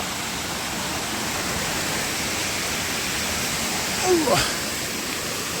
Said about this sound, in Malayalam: ഇത് ചെറിയൊരു വെള്ളച്ചാട്ടമാണ്.